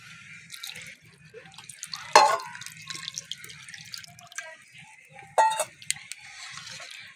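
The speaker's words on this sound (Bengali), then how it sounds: "পরিমাণ মতন জল দিয়ে দেবো" Water poured into a pot of lentil dal while cooking, with two louder splashing pours amid smaller trickles and drips over a low hum.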